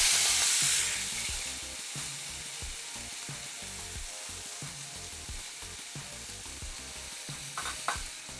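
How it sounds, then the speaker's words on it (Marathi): Fenugreek leaves sauté in a hot tadka for dhaba-style methi dal, giving a steady close sizzle broken by rhythmic stirring scrapes of a spoon against the pan. "मेथी आता छान परतून घ्यायची."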